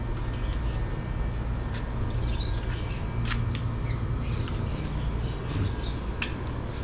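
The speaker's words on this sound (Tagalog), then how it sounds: "maingay yung mga ibon dito" Birds squawk and chirp intermittently outdoors over a steady low hum, the calls scattered and moderately distant.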